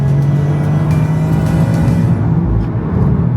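2025 Toyota GR Yaris, an all-wheel drive car with 300 horsepower in sports mode, accelerating: a loud, steady engine drone heard from inside the cabin, close and continuous without talk.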